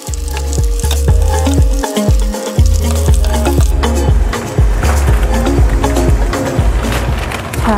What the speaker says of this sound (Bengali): চিজ স্টিকও আছে, এটাও খুব ফেভারিট, এটাও ভাজবো দুইটা।